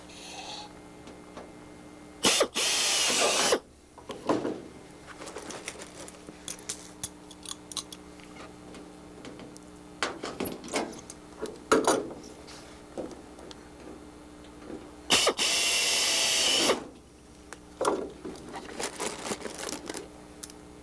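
Drilling Vans RV6 aluminum fuselage skin and stringer, with two loud bursts of power drill whine separated by sharp metallic clicks and snaps of clecos being installed, close by in a quiet workshop.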